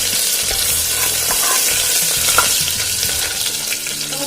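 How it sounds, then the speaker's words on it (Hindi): Green chili and ginger frying in a pan with cumin while being stirred for a khichdi pulao, a loud, close, continuous sizzle broken by scraping stir strokes, with no talk. "तो हम थोड़ा चलाएंगे ग्रीन चिली और जिंजर को"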